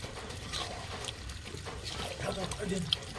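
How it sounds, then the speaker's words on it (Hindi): Water poured in a steady, splashing stream during an outdoor chicken party, a continuous wash of sound at moderate level with voices nearby. "जल्दी पानी डाल"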